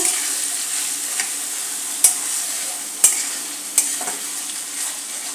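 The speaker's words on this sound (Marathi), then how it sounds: "आता खोवा आपण लो फ्लेमवर चांगला परतून घेऊ।" Khoa being sautéed over a low flame for carrot halwa gives off a steady soft sizzle, with a few sharp clinks of a spoon scraping the pan spaced through it and no voices.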